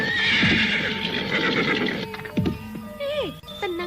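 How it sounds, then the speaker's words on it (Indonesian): Horses run across open grassland, hooves pounding under loud repeated neighs and whinnies, several rising and falling calls close by, with voices talking. "Kuda-kuda sudah capek berlari terus."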